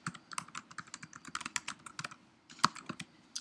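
Fingers typing on a computer keyboard, heard as quick irregular clicking keystrokes, close and fairly quiet, with one louder key press near the end and no talking.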